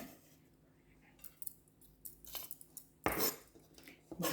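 A knife slicing fresh coconut for Thai miang kham, heard as uneven clicks, scrapes and taps against a board and dish, close and fairly quiet, with a louder clatter near the end.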